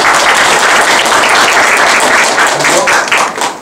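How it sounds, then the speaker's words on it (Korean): Loud, dense audience applause filling the room at a talk, many hands clapping steadily for a few seconds before tapering off at the end. "박수 한번 쳐주세요."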